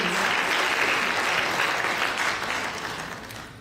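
Large audience at a Bay Area music program applauds the musicians: a dense, loud, sustained roar of clapping that holds steady for several seconds and then begins to fade, no talk over it.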